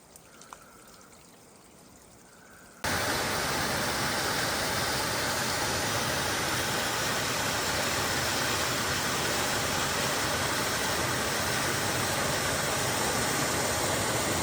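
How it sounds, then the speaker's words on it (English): Buttermilk Falls, a waterfall in fresh snow, roars as a loud, steady broadband rush that begins abruptly after a quiet start and continues unbroken, close and full. "There she is, Buttermilk Falls."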